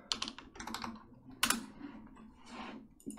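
Quick bursts of keystrokes on a computer keyboard as a folder name is typed, close and clear, with brief pauses between clusters of clicks.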